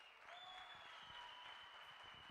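Audience applause at a Hindi-language leadership speech gathering, a steady, moderately loud wash of clapping lasting a couple of seconds, with a faint tonal whistle or feedback line running through it.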